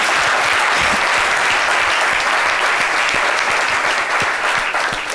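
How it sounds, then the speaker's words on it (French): A studio audience on a French midday talk show applauds, loud and sustained, a thick continuous roar of clapping that holds steady throughout. "il faut les applaudir"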